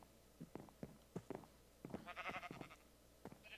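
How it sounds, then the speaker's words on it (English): Sheep bleating in the Minecraft video game, several short nasal bleats in a loose series with a brief higher call near the end, quiet and close, with no talking. "That's a sheep walking around that I hear,"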